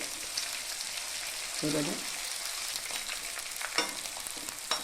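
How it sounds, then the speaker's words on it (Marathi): Chunky pieces of edible gum (dink) fry in plenty of ghee for urad dal laddoos, giving a soft continuous sizzling hiss with occasional spoon scrapes and a brief spoken remark. "जाडसर डिंकाचा भाग वेगळा केलेला आहे खड्यांचा तो तळून घेणार आहोत"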